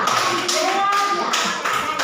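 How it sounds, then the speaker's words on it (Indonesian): Children in a classroom clap their hands together for a group, a steady run of close, fairly loud claps with a teacher's voice speaking over them. "tepuk tangan dulu buat kelompok Melati"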